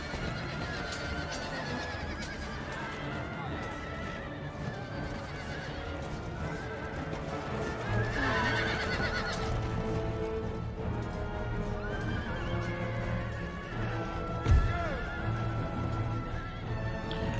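Cavalry horses in a video game battle (Empire: Total War) neigh and whinny repeatedly over a dense, busy din of hooves and commotion, with one sharp thud near the end.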